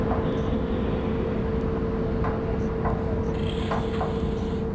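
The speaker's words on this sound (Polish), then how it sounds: "Mamy 3 pociągi, które wjeżdżają w perony na dworzec główny w Brennic." Several ICE trains roll into the platforms of a main station in Train Simulator Classic, a loud, steady low rumble with a constant hum and faint metallic clicks and squeals, close and sustained throughout.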